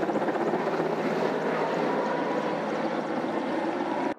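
A helicopter used in emergency firefighting and rescue work flies overhead, its rotor and engine making a loud, steady, continuous drone that fills the whole stretch before cutting off abruptly.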